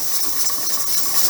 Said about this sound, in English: it's actually letting a lot of steam, which is the water. It's letting it out.